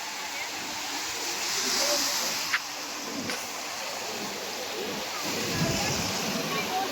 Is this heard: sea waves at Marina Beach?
yes